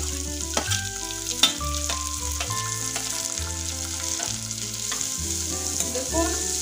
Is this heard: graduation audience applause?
no